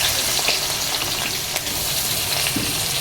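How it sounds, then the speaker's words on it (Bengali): Chopped onions hit hot oil in a pan for chilli chicken, a dense, steady close sizzle and crackle with no talking. "এবার পেঁয়াজ কুচিগুলো দিয়ে দিই"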